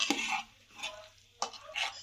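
Spinach being stirred into palak kadhi, a besan and yogurt curry, with a few distinct scraping strokes of a spoon against the pot, close up and without talk.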